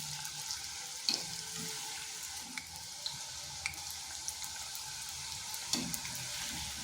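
Semolina pakoras frying in hot oil in a pan, a steady soft sizzle and crackle with occasional small pops and light stirring clicks, fairly quiet and without talk.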